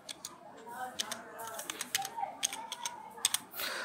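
Computer keyboard typing while a word is entered into a WordPress block editor, a quick irregular series of light, close clicks with short pauses and a slightly longer burst near the end, under a faint quiet background and a voice talking.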